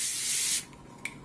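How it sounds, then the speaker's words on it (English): A Pure Mineral facial mist sprays in one sustained close hiss for about half a second, then two quick faint spritzes follow. "I am going to spray this on my face first, so let's give it a little spritz."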